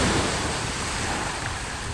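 Rough, muddy seas churn during stormy typhoon weather, a dense, continuous roar of surf and wind filling the air at close range, with no voices.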